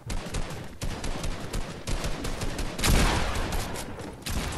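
Dense bursts of gunfire fill a Fortnite match set inside a building, shots cracking continuously and loudly with a heavier volley near the end, no voices over it.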